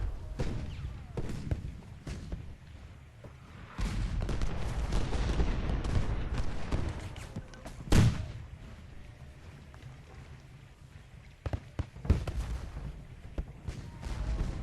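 Cannon and musket fire from a Gettysburg battle in the strategy game Ultimate General: Gettysburg, with booming artillery and crackling volleys rolling on continuously, including a sharp loud blast midway.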